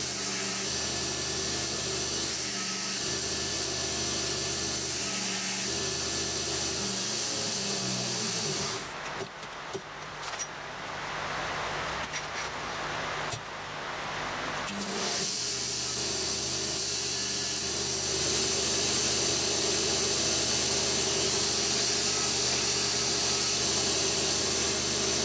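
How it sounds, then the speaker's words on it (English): Belt sander grinding metal wall sconce parts, a loud continuous abrasive hiss and motor drone, easing to a rougher, lower scraping for several seconds mid-way before returning to the steady sanding roar. "Now we're going to go up to 320 grit with the belts"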